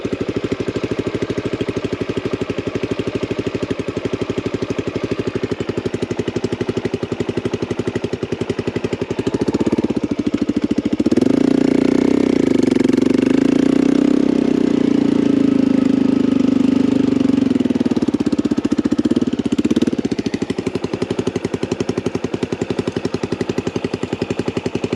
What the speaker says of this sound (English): All this slow speed uphill. This is a water-cooled motorcycle,